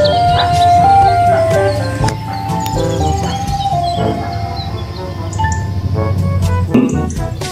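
A toy ice cream truck plays its tinkling electronic jingle loudly and close, a continuous melodic tune with occasional clicks and rustles as the toy is handled, and voices speak faintly alongside.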